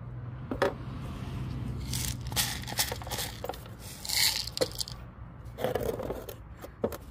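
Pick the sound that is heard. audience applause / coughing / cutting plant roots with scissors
cutting plant roots with scissors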